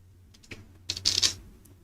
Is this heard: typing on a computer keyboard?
yes